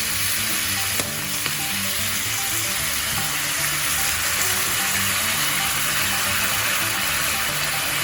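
Soy sauce pours into a hot pan of prawns, setting off a loud, steady sizzle and hiss that holds evenly for several seconds with no talking.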